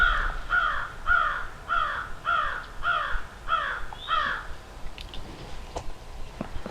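A crow caws repeatedly in a steady series of about eight harsh calls, fairly close, in the woods during an Iowa turkey hunt, followed by faint rustling and scattered small noises.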